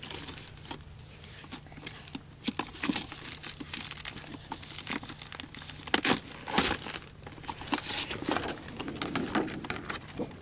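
Close, loud crinkling and crackling of plastic packaging as a Shopkins Collector Case is opened, with irregular bursts of tearing and crumpling and a faint steady hum underneath.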